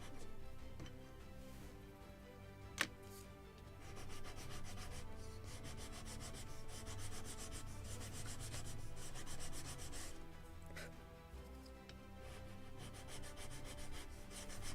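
A sanding block rubs along a straight wooden plank, chamfering its edge for a ship model of the 1776 gunboat Philadelphia, making a faint, steady, rhythmic scratchy rasp with one small knock.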